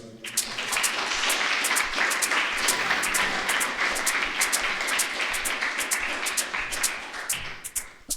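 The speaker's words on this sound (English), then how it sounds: "I want to give some respect and one more round of applause for LA Liz Johnson, who read before me" An audience applauds after a spoken-word poetry reading, a dense and steady wash of clapping that holds at full strength for about eight seconds before easing slightly near the end.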